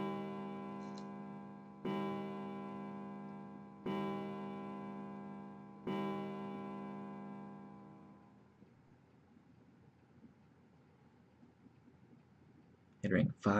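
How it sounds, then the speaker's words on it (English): A clock chimes at the central staircase in the video game 999. Four resonant bell strikes come about two seconds apart, each ringing on and decaying, then the tone fades into quiet with a brief noisy burst at the end. "the clock at the central staircase."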